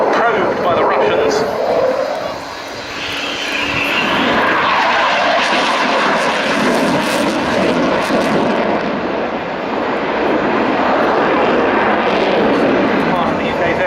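An RAF Eurofighter Typhoon jet at a flying display roars loudly and continuously, its broad engine noise swelling and easing slightly as it passes, with indistinct voices underneath.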